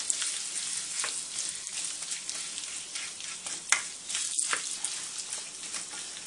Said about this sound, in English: All you're gonna do is basically just fry it up.